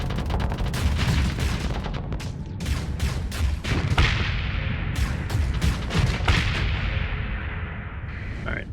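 Spaceship weapons blasting in the space combat game Starsector: rapid bursts of sharp, loud shots and booming impacts over a constant low engine rumble, with scattered pauses between volleys.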